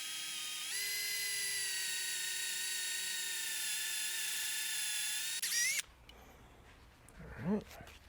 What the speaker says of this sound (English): We're going to drill into this nub down about 1/2 inch.